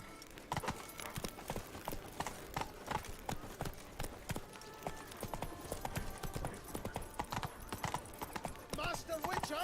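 Roach, a horse in The Witcher video game, trotting with steady clip-clopping hooves throughout, layered with busy game ambience and occasional voices.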